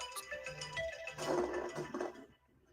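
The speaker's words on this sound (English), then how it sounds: "That's my phone telling me that it's almost 8:30." A phone alarm rings out in a short melodic tone pattern with layered chiming notes, fairly soft and close, stopping abruptly near the end.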